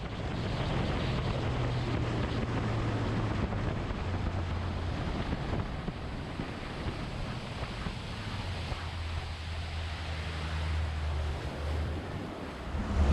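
A Bass Cat Caracal bass boat engine drones steadily at high speed, near 80 mph, beneath heavy wind rush and water spray, a constant roaring hum that barely changes throughout.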